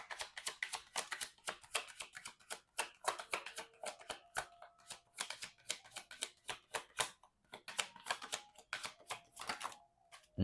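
A deck of tarot cards is shuffled by hand in quick riffling bursts and papery flutters, pausing between rounds, with a soft slap near the end as two cards drop out.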